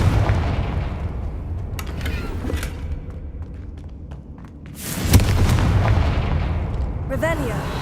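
A Confringo spell explodes in the video game Hogwarts Legacy, a sharp booming blast that cuts through a steady rumbling game backdrop, with a voice calling out around it.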